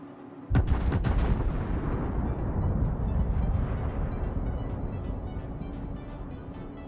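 Battleship main guns fire a salvo in the naval combat game World of Warships: one sudden loud blast with rapid overlapping reports, then a long deep rumbling roar that slowly fades.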